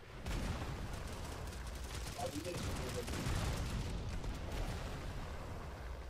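Dense, continuous rattling gunfire mixed with explosive rumbles in a Modern Combat squad battle video game, sustained and loud throughout, with a voice talking underneath.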